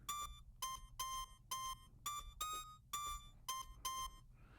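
A transposed saxophone sample triggered on a Sample One sampler sounds nine short, bright, buzzy tones in an even repeating rhythm, each note clean and separated by brief gaps, played alone.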